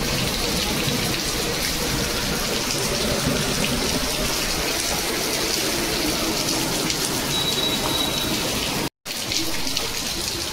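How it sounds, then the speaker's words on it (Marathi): Steady, heavy rain pours down continuously, a dense hiss of drops hitting surfaces with no voices, briefly cutting out for a moment near the end. "आमच्या इथे असा पाऊस पडतो"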